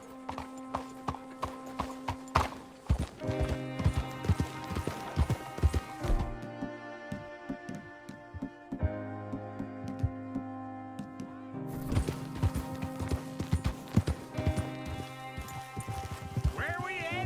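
Rapid hoofbeats of a horse in the video game Red Dead Redemption clatter in a steady galloping rhythm, loud and close, with occasional gaps and shifts in the surrounding sound.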